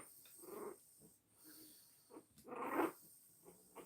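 A two-week-old French bulldog puppy making faint snorting, wheezing breaths and small squeaks, close but quiet, in short bursts.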